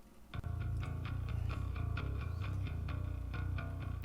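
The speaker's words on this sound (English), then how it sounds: "So this is the distorted part of my bass sound with this guitar amp." Heavy, gritty distorted bass played through a guitar amp, a steady riff, thick low end with fuzzy overtones, loud and continuous with no talking.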